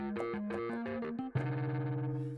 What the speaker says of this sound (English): here under distortion for guitars, these are all the really cool distortion presets